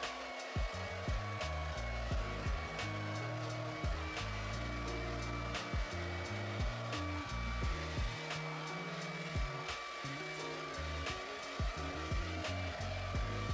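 A hair dryer blows hair dry close by in a continuous loud whooshing drone, with rapid rhythmic thumps and a background tune running underneath it.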